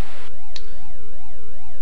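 Chiptune police car siren from the Amstrad CPC game Chicago 90, a loud electronic wail sweeping up and down in fast regular cycles, alone with no talk.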